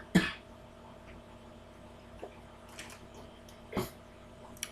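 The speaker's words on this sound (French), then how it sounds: "À chaque fois que j'arrive à ce niveau, je tousse." Two short, sharp coughs from a person indoors, one at the start and another near the end, with a faint throat noise between, close and quiet against a low room hum.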